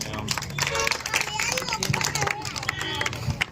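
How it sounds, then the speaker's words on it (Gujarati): An audience at an award function claps in a dense, continuous burst of applause, with crowd murmur and babble mixed in throughout. "તાળીઓથી વધાવીશું।"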